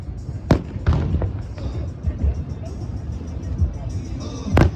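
Fourth of July fireworks bursting outdoors near a tattoo session, several sharp booms and pops of varying distance with people talking in the background.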